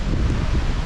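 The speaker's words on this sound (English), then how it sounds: "Está lloviendo duro." Heavy rain and gusting wind in an outdoor storm, a dense, steady roar of close wind noise and downpour filling the whole second with no clear breaks.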